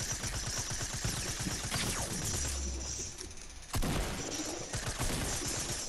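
Gunfire in the video game Fortnite, rapid bursts of shots overlapping in a dense fusillade, with a sharp louder burst near the end and no speech.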